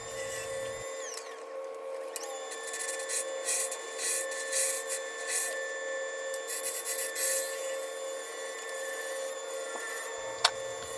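A maple piece spins on a wood lathe while a tool cleans up old faceplate screw holes, giving a steady motor hum with scraping, rubbing cutting bursts and a sharp tick near the end.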